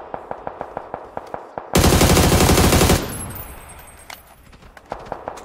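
Gunfire in a multiplayer shooter game: sharp, regular single shots, then a loud, dense burst of automatic fire, then a fading tail and more spaced rounds.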